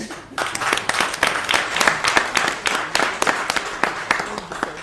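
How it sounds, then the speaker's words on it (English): Audience applause for morning speakers at an M-Files corporate event in 2023, dense steady clapping from a crowd lasting several seconds, fairly close and loud with no voices over it. "please give a round of applause for all our speakers of this morning"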